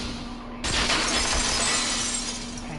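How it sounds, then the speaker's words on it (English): Glass shatters in a sudden loud crash from the video game Danganronpa 2, followed by a bright, sustained spray of tinkling shards that slowly fades. "the girls heard the sound of the window shattering"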